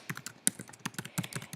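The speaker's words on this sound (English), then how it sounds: "He's going to go into the document and he's going to start typing his assignment." Fingers type quickly on a computer keyboard in a classroom, producing a dense run of crisp, close key clicks at an uneven rhythm, with no voices.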